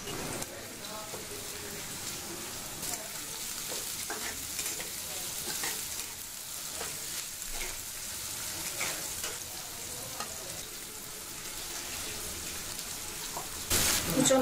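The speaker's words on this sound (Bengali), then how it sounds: "চুলা মৃদু তাপে কিছুক্ষণ রান্না করে নিব" Chopped amaranth stems and leaves with onion and salt fry in a pan over low heat. A steady close sizzle runs throughout, with stirring scrapes and a louder burst near the end.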